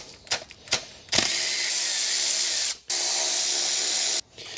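Bolts being tightened with a ratchet wrench on timing belt parts of a Toyota Altezza engine, a few short clicks and then two long, steady runs of loud, continuous ratcheting, close up with no talking.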